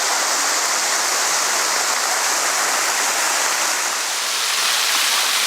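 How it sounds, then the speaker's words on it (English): A layered waterfall roars steadily and loudly from close range, a dense, even hiss of cascading water with no talk. "So I'm choked up sort of super close on the waterfall here"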